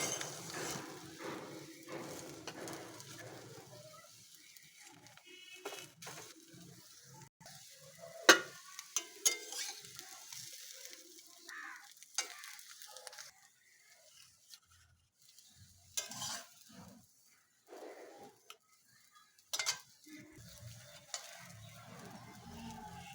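Cabbage and egg pieces frying in oil in a pan, giving a faint, steady sizzle with scattered clinks and stirring scrapes of a utensil, and no talk.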